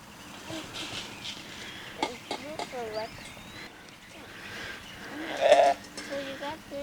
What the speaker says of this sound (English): let's get the sheep back in their fence